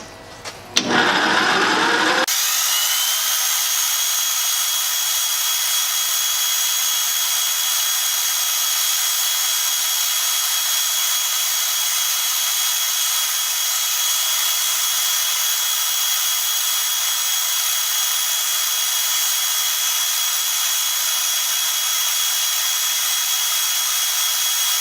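Small power tool running continuously with a high, steady whir while burnishing stainless steel with aluminum mesh, starting after a few seconds of quieter handling and holding an even, close drone throughout.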